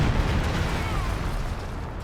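A dense, continuous rumble of artillery shells exploding in Company of Heroes 2, during an online match between German OKW and Soviet forces. Loud and close, the barrage rolls on steadily with no talk.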